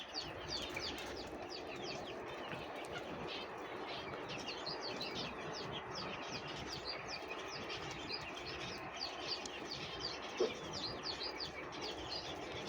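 Backyard laying hens cluck steadily among a busy, continuous wash of chirping and cooing birds, fairly close and even in level throughout, with no talking.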